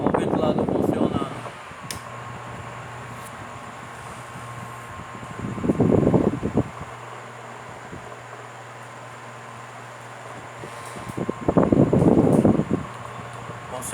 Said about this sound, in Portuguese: Vou ligar aqui, ó, na normal, com o ventilador funcionando.